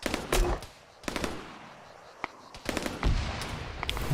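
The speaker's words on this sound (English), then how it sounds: "Taking fire!" Machine gun fire in Arma 3 comes in sharp bursts and scattered single shots of varying distance, with quieter gaps between and a voice briefly audible.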